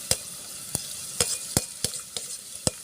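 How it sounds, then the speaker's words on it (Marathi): Onions frying in oil in a pan for a Maharashtrian chicken curry, a steady sizzle broken by about eight sharp, regular clacks of a spoon stirring. "ह्या तेलामध्ये कांदे चांगले लाल येऊ द्यायचे"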